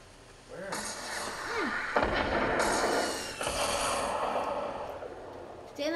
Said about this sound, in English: I hear RPGs and a grenade launcher.